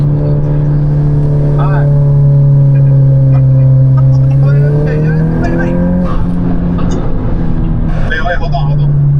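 A turbocharged Honda Civic Si and Accord accelerating hard from 60 mph in a roll race, with a loud, steady engine drone whose pitch climbs and shifts close by, while people talk over it inside the car.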